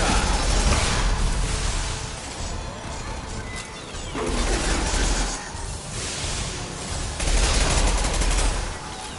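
A high-impact weapon firing in Mass Effect 2: a dense, loud barrage of blasts and crashing impacts surges in several waves, with no voices over it.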